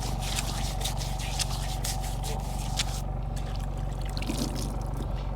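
Water runs and trickles down into the step well of a van as someone washes up, a steady close wash of splashing and dribbling over a low engine-like hum, with no speech.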